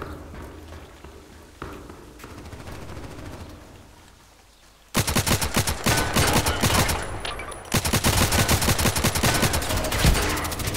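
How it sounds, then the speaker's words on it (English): Gunfire in the video game Contract Wars, with a quieter stretch of distant shots followed by a sudden loud, dense run of rapid automatic fire that continues to the end, close and sustained. "I was shooting at him"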